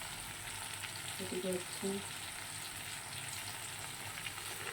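Okra and potato curry frying with nigella seeds, ginger and cumin paste, tomato and green chilli in a home kitchen, a soft steady sizzle with a few brief spoken words over it.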